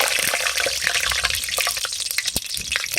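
Water heats in an outdoor deep fryer, giving a dense, continuous bubbling and crackling with sharp pops scattered throughout, close and fairly loud.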